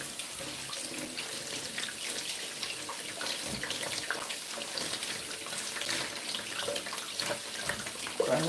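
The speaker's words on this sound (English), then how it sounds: "So let's wash our pineapple." Tap water runs steadily over a pineapple being washed at a kitchen sink, a constant close splashing hiss with small shifts as the fruit moves under the stream, no voices.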